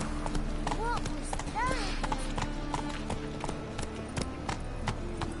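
Roach the horse gallops in The Witcher 3 with a steady, close drumming of hoofbeats that continues throughout, joined by a few brief rising calls.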